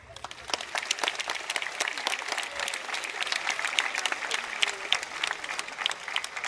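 An audience at the 22nd International Folklore Festival in Plovdiv applauds steadily, a dense patter of many hands clapping from a moderate distance, continuous throughout.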